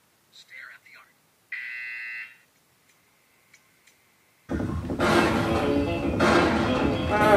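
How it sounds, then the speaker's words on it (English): A buzzer in the Ty the Tasmanian Tiger video game sounds as a short flat electronic tone, after a few brief game chirps, then louder busy game noise takes over for the remaining seconds. "You will hear a buzzer."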